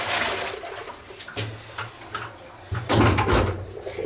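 Dye water tipped out of a bucket after black Procion reactive dyeing of jeans makes a short splashing gush late on, after a brief earlier slosh, fairly close with no voices.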